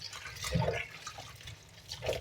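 Urad dal with husks is washed by hand in water, giving faint, intermittent splashing and squelching sounds as the lentils are rubbed, heard close and quiet with no talking.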